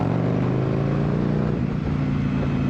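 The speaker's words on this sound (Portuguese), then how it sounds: "esta moto faz um bocadinho de barulho" Engine of an Indian Sport Scout Limited motorcycle running close by, a loud, steady throbbing drone with rich low harmonics under wind rush.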